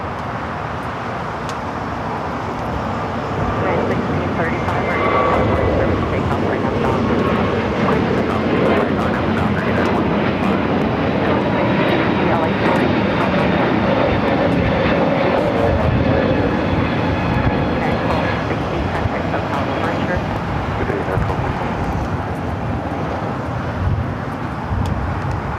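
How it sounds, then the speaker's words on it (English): United Airlines Airbus A321neo taking off from Los Angeles airport, a loud continuous jet engine roar that swells and holds for about twenty-five seconds, heard from outdoors with faint traffic noise underneath. "Next takeoff is that A321neo with United heading to Denver."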